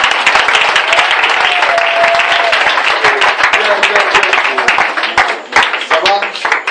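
A church congregation claps and cheers in praise during an intense prayer and worship gathering, dense continuous applause with crowd voices mixed in, loud and close for the whole stretch.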